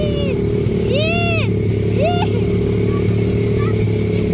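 A pit bike engine drones and revs steadily nearby outdoors, with rising, whining sweeps over the motor and voices calling out above it.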